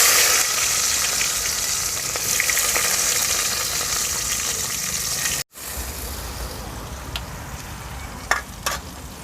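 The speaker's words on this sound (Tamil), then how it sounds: "வெங்காயம் வதங்கும் போதே" Onions sautéing in oil with mustard seeds and fennel for a village-style chicken gravy, a loud, steady hiss that drops after a cut, followed by a few sharp spatula clicks.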